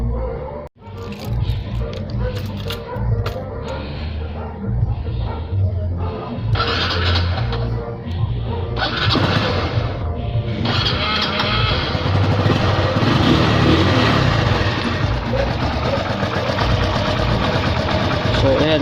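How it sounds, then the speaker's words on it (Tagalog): Honda CB110 motorcycle engine starts up and settles into a steady idle with a mechanical clatter around the timing chain, running close and loud throughout. "papaandarin muna natin ating motor, pakikinggan natin kung gaano kaingay"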